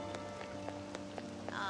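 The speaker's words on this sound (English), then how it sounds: "I don't like all this rain." Rain falls in a Persona 5 Royal game scene, a steady patter with scattered louder drop taps over a humming soundtrack.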